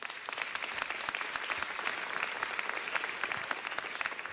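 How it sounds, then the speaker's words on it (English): An audience applauding at an award ceremony in Los Angeles, dense, steady clapping from many hands, sustained and even throughout with no pauses. "I think Los Angeles deserves a big round of applause."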